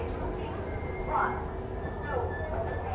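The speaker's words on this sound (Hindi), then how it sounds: "और ये है जम्मू तवी बाड़मेर एक्सप्रेस, जिसको हम ओवरटेक करने की सोच रहे थे" Jammu Tawi Barmer Express running alongside on the adjacent track, heard from inside a moving train as a steady loud rumble of wheels and rail noise with brief squealing accents.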